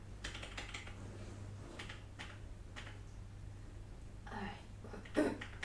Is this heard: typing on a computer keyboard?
yes